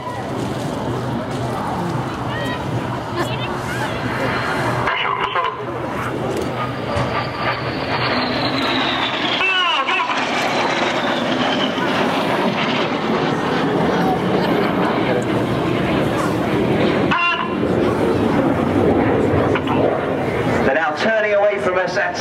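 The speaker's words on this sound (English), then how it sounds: "They're closing at over 800 miles an hour, just descending to 100 feet above the runway." Red Arrows jets at an air show sweep low in the Synchro Pass, closing fast about 100 feet above the runway; a loud continuous jet roar swells and shifts pitch as they pass, with a commentator talking over it.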